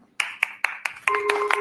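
A handful of sharp, isolated claps from a small group, evenly spaced about a quarter second apart, with a steady tone joining partway through and ringing under the last few claps.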